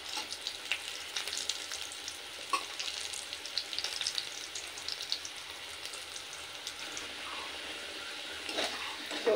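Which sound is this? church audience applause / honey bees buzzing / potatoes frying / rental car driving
potatoes frying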